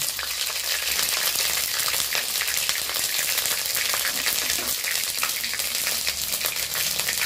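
Ginger paste and whole spices, dried red chillies, cardamom, cloves, cinnamon and cumin seeds, sizzle and spit in hot oil, a dense, steady, close frying hiss throughout with no voices.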